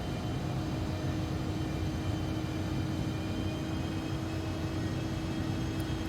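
A steady, droning aircraft engine with a constant hum and broad rumble runs throughout as power is brought up on approach to a runway in the X-Plane 11 flight simulator, on a flight from Miami KMIA to Freeport MYGF.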